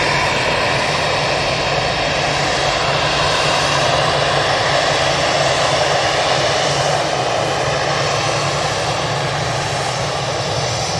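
easyJet jet airliner taking off at Manchester Airport, a loud continuous engine roar sustained for the whole stretch with no talk over it.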